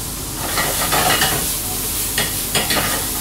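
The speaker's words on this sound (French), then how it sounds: "une fois qu'elles ont commencé à cuire un petit peu, on va pouvoir rajouter nos oignons avec l'ail" Prawns fry in a pan with onions and garlic for gambas à la provençale, giving a close, steady sizzle with brief bursts of louder crackle and stirring as ingredients are moved.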